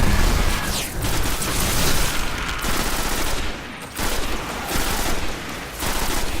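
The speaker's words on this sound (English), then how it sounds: "Still getting used to using an auto rifle." Destiny auto rifle fire on Earth, a steady, dense automatic stream that is loud and close, broken by a few short pauses, with booming impacts mixed in.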